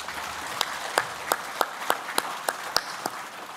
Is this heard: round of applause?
yes